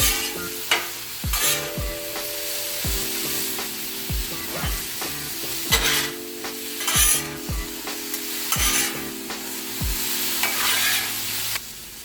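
Seasoned potatoes sizzling on a 36-inch Blackstone griddle, a steady loud sizzle broken by repeated scraping strokes of a spatula as they are mixed, with no talk.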